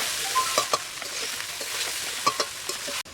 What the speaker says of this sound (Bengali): কেটে রাখা টমেটোগুলো দিয়ে দিলাম। টমেটোগুলো দিয়েছি, ভালো করে মিলিয়ে দেব।